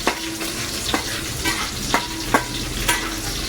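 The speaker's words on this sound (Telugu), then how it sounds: "కంపల్సరీగా దీన్ని బాగా వేగనివ్వాలి" A corn cob masala curry fries loudly in a pan, with steady close sizzling and a spoon stirring and scraping at a regular rhythm of repeated strokes.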